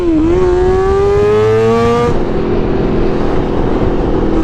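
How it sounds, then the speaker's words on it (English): A 636cc stunt motorcycle held in a wheelie revs loudly and close, its engine note climbing steadily in second gear before a brief break as it shifts into third and carries on at a lower, rougher drone. "Shifting in a wheelie there, second to third."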